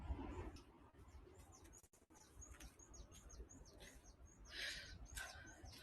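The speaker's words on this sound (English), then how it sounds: "hearing small birds around here." Small birds chirp on a coastal headland at dawn among edge vegetation, several short high calls scattered and fairly distant over a steady low rumble of sea and wind.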